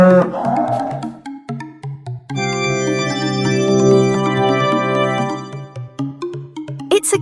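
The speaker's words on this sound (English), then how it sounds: "It's a cow." A cow's long, sustained moo rises and holds for about three seconds, strongly tonal, after shorter sounds and before a brief sound at the end.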